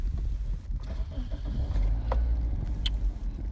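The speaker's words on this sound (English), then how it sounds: "Now let's see if it's gonna crank up." A Toyota Corolla engine cranks and catches, a low rumbling turnover settling into a running idle, with a few small clicks and knocks close by.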